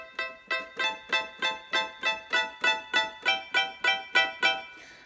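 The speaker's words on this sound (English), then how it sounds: "The one I've got here is called a mute guitar" Electronic keyboard on a muted guitar patch plays a steady run of about fifteen short, plucked, damped notes in an even rhythm, clean and close with no voices.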